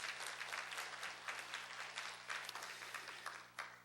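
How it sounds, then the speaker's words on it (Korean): Church congregation applauding during a Sunday service, a short burst of dense, even clapping from many people, moderately distant in the room with a low hum beneath. "감사 박수 한번 올려보시겠어요?"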